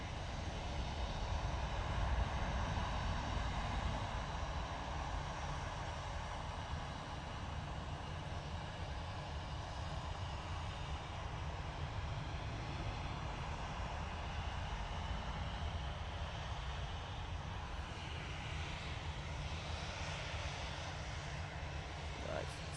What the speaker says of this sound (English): the EasyJet is about to touch down on 23 right